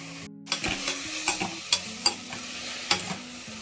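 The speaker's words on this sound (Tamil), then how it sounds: "சிக்கன் மசாலாவில் 10 நிமிஷம் ஊறி வச்சு இதையும் போட்டு வதக்கிக்கலாம்." Marinated chicken with chilli sautéing in a pan for chicken bone rasam, a steady sizzle broken by repeated scraping stir strokes, close and moderately loud with no talk.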